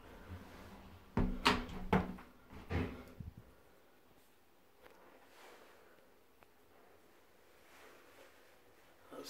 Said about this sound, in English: Shut the door behind me.